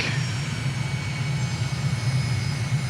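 Steady drone of an aircraft engine throttled back in Microsoft Flight Simulator, low and continuous with an even hum and a faint high whine, loud and constant throughout with no talking.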